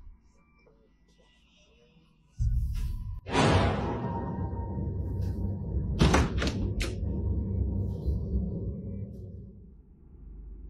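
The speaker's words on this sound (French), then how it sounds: "Pendant cet instant, la porte s'ouvre dans son dos, ce qui terrifie définitivement le TikToker." A door opens behind a TikToker in a quiet house at night, a faint creak giving way to a long, loud low rumble and rush of movement that fills the rest of the clip, with no talk.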